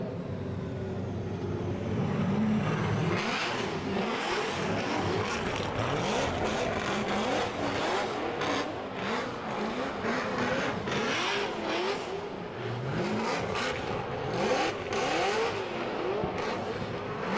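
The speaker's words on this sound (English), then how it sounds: "There we go, cars warming up down the back end of the grid" Drift cars warming up on the starting grid at a championship round on a Formula One circuit, engines revving and rising in repeated swells, a layered roar from several cars at a moderate distance.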